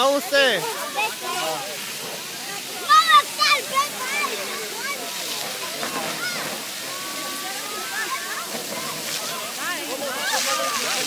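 Firefighters spray water onto a bonfire with a continuous rushing hiss and splashing, while several people talk and exclaim loudly over it.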